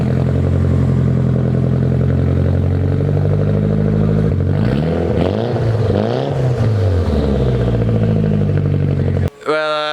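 Straight-piped Nissan Silvia S15 Spec R idling loud and lumpy with a deep, tractor-like burble and some wavering revs, then the engine cuts off abruptly near the end with a brief clatter.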